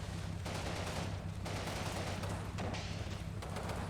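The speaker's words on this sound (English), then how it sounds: "That was a bazooka shot." A bazooka shot goes off in the WWII tactics game Combat Mission Final Blitzkrieg, a loud blast set within a dense, continuous clatter of battle gunfire with repeated sharp bursts across the stretch.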